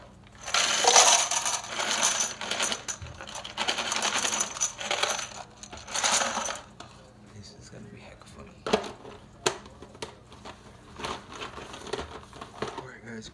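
Cups being stacked into a tower make a series of light clattering clicks and rattles with some crinkling, loud at first and then sparser and softer.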